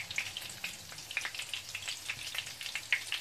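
Tofu pieces frying in hot oil until golden on the outside, a steady close sizzle with dense crackling pops and scattered louder spits, no voices.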